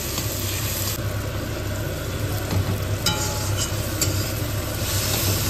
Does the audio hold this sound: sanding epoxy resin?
no